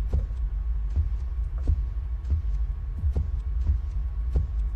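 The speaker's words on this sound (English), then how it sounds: "Oh, the vacuum cleaner's back." Low droning hum like a vacuum cleaner in the horror game Shadows 2, a steady deep rumble running throughout and broken by a regular series of soft thumping pulses roughly every second.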